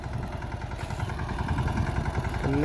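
A tractor engine idles and runs on a farm field during cumin sowing, a close, steady low mechanical throb with rhythmic pulsing and some clatter throughout, and no talking.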